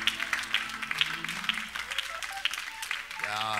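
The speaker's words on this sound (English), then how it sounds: "Let's clap our hands to the Lord, everybody." A church congregation claps in a steady rhythm during a praise and worship service, with voices singing and talking over the clapping.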